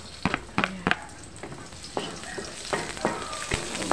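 Garlic frying in a pan alongside alugbati, a soft steady sizzle punctuated by repeated sharp clacks and scrapes of a utensil against the pan, close by, with no one talking.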